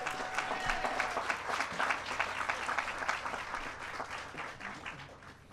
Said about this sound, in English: We can clap.